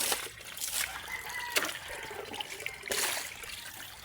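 Water poured out for pigs, a steady splashing and trickling stream rising in a few louder gushes, moderately close with no talk.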